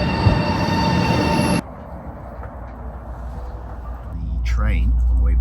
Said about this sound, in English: Train on the way back to Shanghai